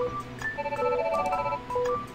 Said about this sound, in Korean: 경위님? 전화 왔어요.